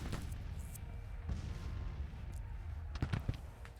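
Cannons fire canister shot on a Civil War battlefield in the Grand Tactician strategy game, a rumbling low backdrop broken by scattered booms and a tight cluster of reports near the end.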